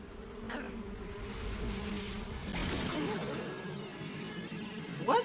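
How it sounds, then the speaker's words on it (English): A swarm of hornets from Metal Gear Solid 3 buzzes steadily throughout, a continuous droning hum that swells slightly midway, with a brief sharper sound at the end. "Hornets."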